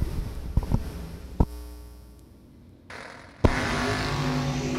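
Roadster door car on a drag strip, engine revs and a few sharp bursts, then a sudden loud surge of full-throttle roar near the end, fairly distant, no talk.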